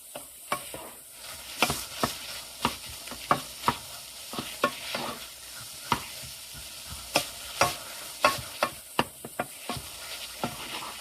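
Chopped onions stirred in a pot for a simple one-pot homemade chili, with regular spoon scrapes and soft thumps every second or so over a quiet sizzle, close and fairly faint, no voices.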